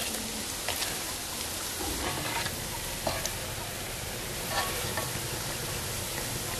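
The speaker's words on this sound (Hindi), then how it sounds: "हल्की आंच पे इनको फ्राई करना है" Shakar para dough pieces fry in oil over a low flame in a village kitchen, giving a steady, moderately loud sizzle with soft crackles and occasional stirring clinks throughout.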